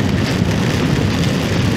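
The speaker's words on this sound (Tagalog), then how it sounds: "Andito na po yung malakas na ulan sa may Umingan." Heavy typhoon rain pours down in Umingan during overnight camping, a loud, dense, steady roar of drops beating on surfaces nearby, with no voices over it.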